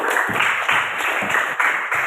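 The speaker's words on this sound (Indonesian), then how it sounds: "Ya benar, tepuk tangan dulu." Pupils in an Indonesian classroom clap together in a dense, rhythmic burst, loud and close, with a few stronger grouped beats.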